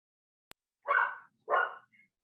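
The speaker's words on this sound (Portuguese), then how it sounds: "eu tenho cachorros aqui em casa." A dog at home barking twice in quick succession, two loud close woofs after a brief click, followed by a faint short yip, with no talking.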